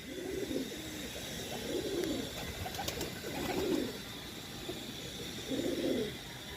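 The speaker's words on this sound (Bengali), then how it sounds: "ঘর সেটিং পায়রা, ঘরে ঢুকে যাচ্ছে বারবার" Pigeons coo in a coop in four low, rounded, regular bursts spaced about two seconds apart, over steady background hiss and faint distant chirps.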